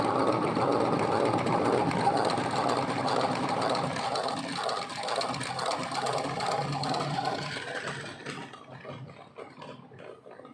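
Honey extractor spinning honeycomb frames, a continuous whirring mechanical rattle, fairly loud and close, slowing and fading out toward the end.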